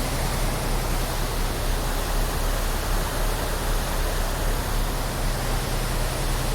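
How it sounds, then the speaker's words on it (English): A waterfall pours into an Erie Canal lock, making a loud, constant roar of falling water that stays close and unbroken throughout. "I don't mind the waterfall behind me."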